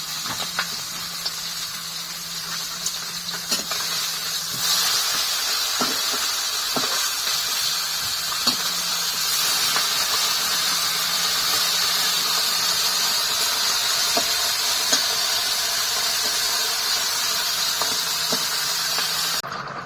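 Fish frying in a pan over a clay stove, giving a steady loud hiss and sizzle throughout, with a few faint clicks and knocks.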